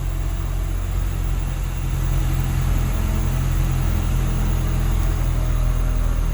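An engine runs steadily and loud, with a continuous low drone and broadband noise and no letup, from a Honda Civic EM2 converted to all-wheel drive with a rear LSD and ABS retrofit, running under throttle with its wheels turning.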